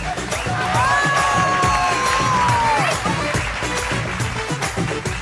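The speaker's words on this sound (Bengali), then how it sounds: "জোরে হাততালি।" A game show studio audience on a Bengali family quiz show breaks into loud, sustained applause and cheering with whoops, the crowd noise steady for a few seconds before easing slightly.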